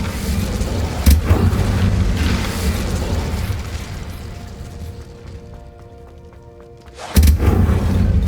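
An Incendio fire spell cast in Hogwarts Legacy: a loud burst that whooshes and rumbles, fades over several seconds, then a second sharp blast erupts near the end.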